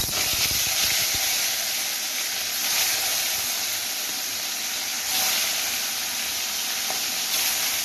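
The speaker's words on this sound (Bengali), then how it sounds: "তেলটা গরম হয়ে গেছে এবার মাছটা ভেজে" Rohu fish pieces frying in hot mustard oil in a kadai give a loud, steady, close hiss and sizzle that runs unbroken throughout.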